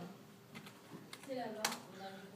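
Quiet clicking of keys on a computer keyboard, a few scattered taps and short bursts at irregular intervals, close by, with a faint voice in the background.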